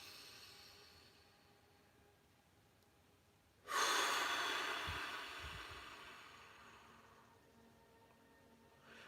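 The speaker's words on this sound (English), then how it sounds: "Deep inhale, nice big exhale." A deep, slow breath during a guided morning meditation: a quiet stretch, then a long breathy exhale that rises suddenly and fades gradually, close and soft, with no speech.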